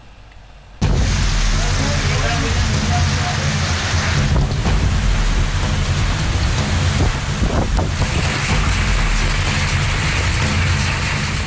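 Heavy storm rain with strong wind over Uttar Pradesh, India, a thick, steady roar of downpour and gusts that starts abruptly and stays loud throughout, with deep low rumbling underneath.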